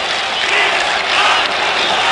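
Stadium crowd at a 1984 Al Ahly versus Zamalek league football match roars and cheers steadily, a dense, continuous wash of voices with no pauses or breaks throughout.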